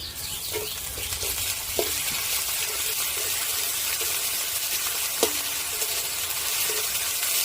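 Ginger-garlic paste fries in hot oil with lightly fried onions for an egg masala, giving a steady, close, loud sizzle throughout with a couple of faint utensil clinks.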